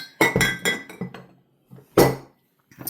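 Heavy vintage glass ashtray handled up close, giving a few sharp glassy clinks and knocks in quick succession, a pause, then one more loud clink, with no talking.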